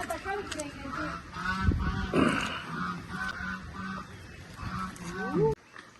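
Nasal honking calls from a duck repeat several times nearby, over low background noise and some faint talking.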